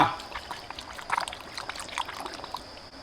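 Fish sauce poured while preparing a Thai steamed squid dish with chili and salt, a light continuous trickle and dribble of liquid close by, quiet and steady for about three seconds.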